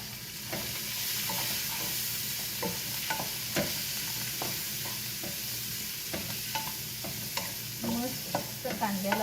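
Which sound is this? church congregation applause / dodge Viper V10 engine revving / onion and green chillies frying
onion and green chillies frying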